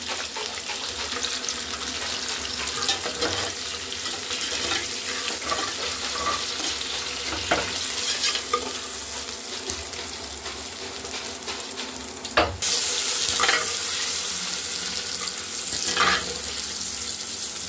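Onions frying in a pan with salt for chicken biryani give a steady, close sizzle with occasional stirring scrapes, and there is no talking.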